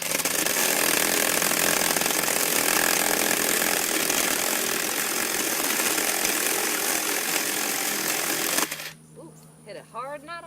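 Black and Decker battery chainsaw cutting through wood, a loud, continuous buzzing whine up close for over eight seconds that cuts off abruptly, leaving brief outdoor sounds and a voice talking.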